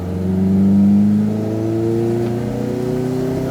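An old race car engine revs up and holds a loud, close, rising mechanical whine, with the pitch climbing and easing over a few seconds.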